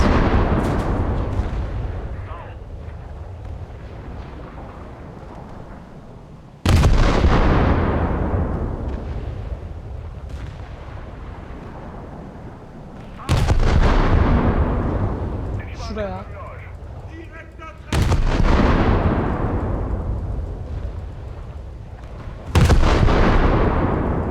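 Heavy cannon fire from the Z43 in the War Thunder game: five loud, booming blasts a few seconds apart, each trailing off in a long rumbling decay, close and dominant.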